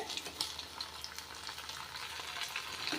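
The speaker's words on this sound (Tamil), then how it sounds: "இதே மாதிரி நல்லா கிறிஸ்பியாக பொரிஞ்சோடனே எடுத்துருங்க" Chicken 65 pieces deep-frying in hot oil until crispy give off a dense, steady sizzle with fine crackling pops, continuous and close, with no voices.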